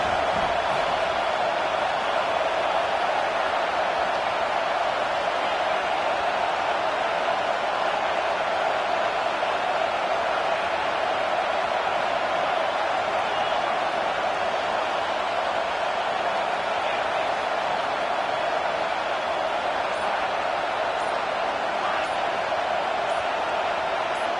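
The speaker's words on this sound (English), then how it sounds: "Here comes the noise, backing this defense on third down." A roaring stadium crowd at a football game during a third-down defensive stand, a dense, loud, unbroken wall of noise throughout.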